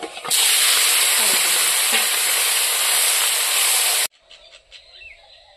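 Fish such as magur, shingi and lyata fry in hot oil in a wok, giving a loud, steady close-up sizzle that cuts off abruptly near the end, leaving faint background sounds.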